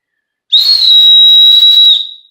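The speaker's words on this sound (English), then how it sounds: "That's a very sharp sounding whistle." A survival whistle gives one sharp, piercing, high blast lasting about a second and a half, loud and close, then cuts off cleanly with no voices around it.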